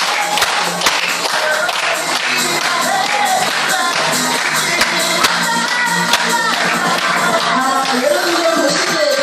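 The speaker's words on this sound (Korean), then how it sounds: "자, 박수 좀 한번 크게 쳐주세요." A crowd applauds at an underwear and lingerie fashion show, with clapping spread across the hall, mixed with loud background music and a murmur of the audience throughout.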